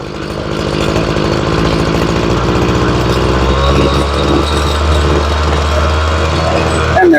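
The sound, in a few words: Ryobi weed eater engine revving after carburetor tuning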